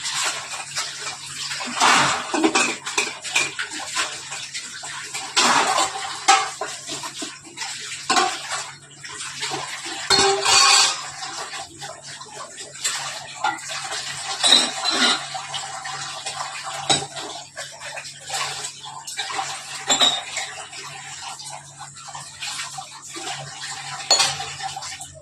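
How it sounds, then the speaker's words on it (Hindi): Dishes are washed a few at a time in a small kitchen sink, with steady running water, clinking utensils and clattering pots over about twenty-five seconds and no talking. "मैं थोड़े थोड़े बर्तन एक करके धोती हूँ ताकि सिंक खाली हो जाए।"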